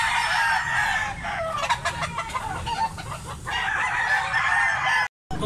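A gamecock of about two years crows loudly and close at an auction market, with hens clucking around it in a busy, continuous barnyard din.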